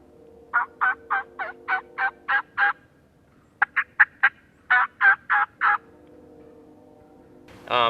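Wild turkey calls ring out close and loud: a run of eight evenly spaced yelps, a short pause, then a quicker string of sharp calls.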